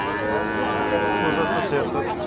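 A local deshi cow at the Patgram cattle market gives a long, loud, sustained moo that runs through the whole stretch, with market background noise underneath.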